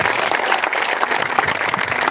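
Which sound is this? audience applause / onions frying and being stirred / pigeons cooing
audience applause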